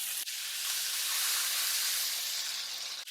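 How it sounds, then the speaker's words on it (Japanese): Steak edge searing in a pan with butter, unpeeled garlic and rosemary, giving a steady, bright sizzling hiss that holds evenly for about three seconds, close and alone. "端っこの方を焼いていきます"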